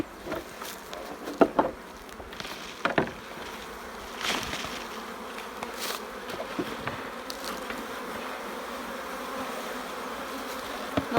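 Honeybees hum in a dense, continuous drone around a hive opened to check winter stores, close and steady, with occasional louder passes as individual bees fly near and brief handling knocks early on.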